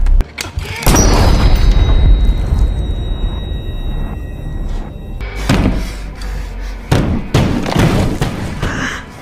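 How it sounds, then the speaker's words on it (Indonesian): Several heavy booming blasts ring out, a cluster early on and more later, loud and close, with low rumbling noise between them. "Mendengar suara tembakan"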